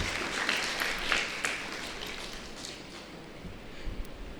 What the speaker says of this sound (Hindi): इसके लिए जोरदार ताली बजाइए